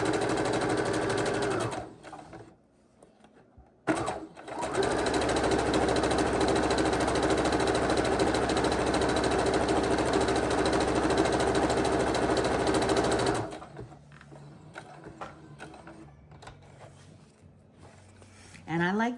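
A sewing machine chain-stitches quilt pieces: a loud, dense, buzzing whir runs continuously for about nine seconds after a brief start and pause, then stops, leaving quiet handling noises.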